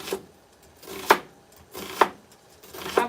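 An onion for samosa filling is chopped with a knife, four separate sharp chops on a board spaced about a second apart, close and clear with no voices.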